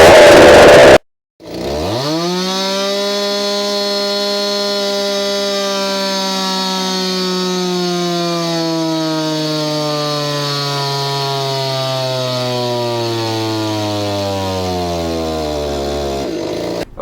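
A two-stroke chainsaw fitted with thin, low-tension piston rings screams at high revs in one long, loud, continuous run whose pitch slowly falls, then cuts off abruptly.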